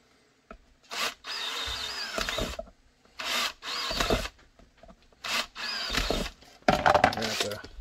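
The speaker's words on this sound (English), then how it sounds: "We'll drill those three." Several close power drill bursts drilling holster retention holes, each a rising whine with a grinding bite into material, separated by short pauses.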